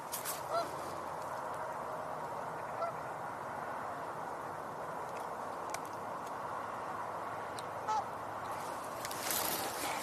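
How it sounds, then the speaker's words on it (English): Canada geese honking with mallard ducks quacking at a wetland, scattered calls rising now and then over a steady wash of outdoor noise at moderate distance. "oh, there's a mallard, and some Canada geese, obviously"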